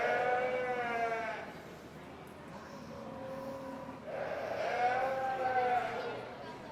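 Sheep and lambs bleat at a sheep show in two wavering calls, one early and one louder later, fairly close, with indistinct talk and hall noise underneath.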